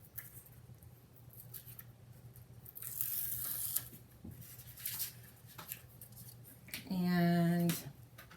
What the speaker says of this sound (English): So I take off my tape